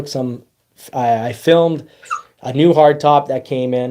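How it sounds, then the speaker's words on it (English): Dogs fighting in the background with whimpers, yips and brief barks, mixed under a man's steady nearby speech that carries through most of the four seconds. "I'm sorry the dogs are fighting."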